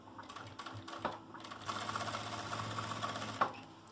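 Sewing machine stitches a zipper onto a pouch, a mechanical whirring run of needle strokes after a few short clicks and adjustments, close and moderately quiet with no talk.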